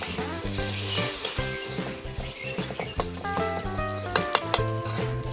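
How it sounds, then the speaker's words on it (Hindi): Spices with tomatoes, turmeric, garam masala and chilli being stirred in a frying pan for a village-style hill dish, a close sizzling hiss with spoon scrapes and metal clinks against the pan, heard under steady background music. "अब इसको मिलाएंगे अच्छे से।"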